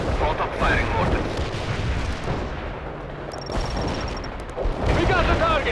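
Mortars firing in the Cold War strategy game World in Conflict, heavy booming artillery reports and rumbling blasts over continuous battle noise, with radio voices talking over the action.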